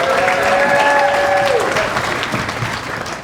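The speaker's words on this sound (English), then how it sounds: "let's have another round of applause for their parents as well" An audience at a speech event applauds for a couple's parents, a dense burst of clapping lasting a few seconds, loud and close, with a brief cheer near the start before fading slightly.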